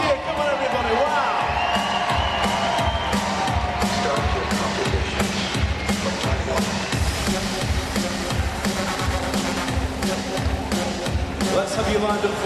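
Arena crowd at a World Taekwondo Grand Prix in London cheering and whooping in a steady roar, with rhythmic clapping and music underneath throughout.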